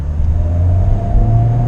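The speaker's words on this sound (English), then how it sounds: "I'll just push the accelerator as hard as I can." Tesla Model 3 electric car accelerating at full throttle from a stop at a traffic light: a steady, loud low road rumble with a thin electric whine that climbs gradually in pitch throughout.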